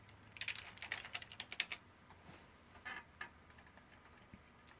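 Someone types a short folder name on a computer keyboard: a quick burst of clicky keystrokes, a pause, then a few more taps, close and alone over faint room hum.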